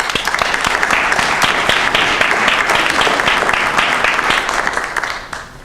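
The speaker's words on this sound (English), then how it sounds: "I think you, the community, also deserve a round of applause." A loud, sustained round of applause from the community audience at a town hall meeting, dense and close with sharp individual claps, fading out at the end.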